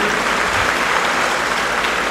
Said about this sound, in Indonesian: Berikan aplaus juga.